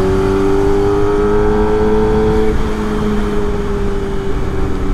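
Kawasaki ZX25R and a Mio motorcycle idle in a traffic jam, a steady engine hum holding a sustained tone with loud continuous road noise throughout, slight pitch drop midway.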